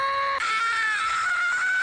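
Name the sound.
people screaming together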